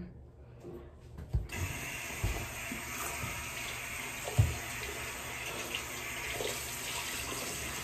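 A bathroom tap runs steadily while face cleanser is rinsed off, a constant close hiss of flowing water with occasional splashes and a soft voice now and then.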